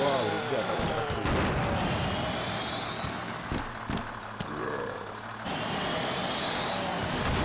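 A video game bus engine roars and revs with whooshes, hisses and sharp crashes, dense and loud like game sound effects, with no clear gaps, in a cars-versus-zombies racing game.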